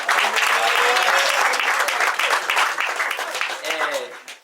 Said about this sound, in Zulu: ibandla likushayela ihlombe elikhulu